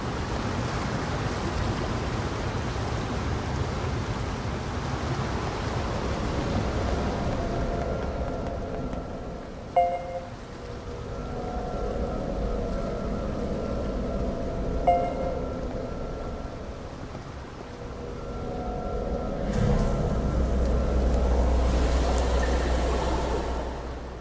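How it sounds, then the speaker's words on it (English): Steady rain hiss in NieR Reincarnation with a low rumbling wash, a couple of faint clicks, and a deeper surge of water noise near the end; no voices. "The only sound is the rain."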